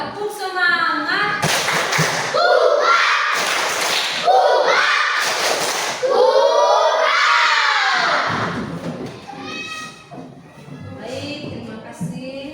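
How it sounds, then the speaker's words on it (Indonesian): Children in an Indonesian classroom perform a rhythmic spirit clap, loud chanting voices mixed with bursts of clapping in a patterned beat, trailing into quieter chatter. "Coba tepuk semangat."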